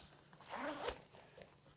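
A big YKK front zipper on an MSR Voyager adventure motorcycle jacket is pulled open in one smooth, close rasping run lasting about a second, with no talking.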